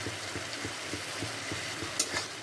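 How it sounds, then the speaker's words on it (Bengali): Onion, garlic and chili powder masala sautéing in a pan, a soft steady sizzle with faint rhythmic stirring scrapes, quiet and close, no voices. "এটাকে এখন ভালো করে কষিয়ে নেব।"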